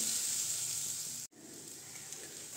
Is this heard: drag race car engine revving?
no